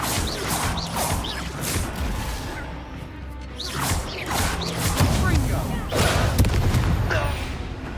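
A Bombarda blasting spell in a video game sets off repeated whooshing bursts and rumbling crashes, loud and close, swelling into heavier booms toward the end.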